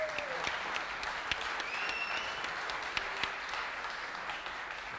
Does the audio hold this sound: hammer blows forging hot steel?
no